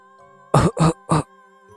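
Three short, loud coughs in a steady rhythm, close up, with a faint steady hum underneath and quiet before and after.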